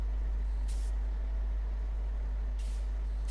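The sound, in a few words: air hiss of ANK MK38 truck with wheels airborne, SnowRunner video game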